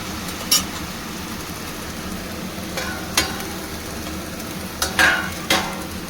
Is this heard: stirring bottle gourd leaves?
yes